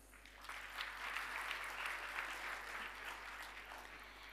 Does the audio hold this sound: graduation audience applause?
yes